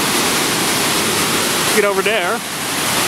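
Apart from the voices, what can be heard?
waterfall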